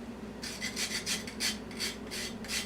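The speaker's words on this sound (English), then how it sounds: "You get a nutmeg grater." Whole nutmeg is rubbed over a small nutmeg grater in quick, even rasping strokes, about a dozen close scrapes in a steady rhythm after a short quiet start.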